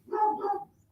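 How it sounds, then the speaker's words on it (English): A single brief two-part dog bark indoors at home, faint and slightly muffled, heard alone with no talking. "Sorry, that's my dog."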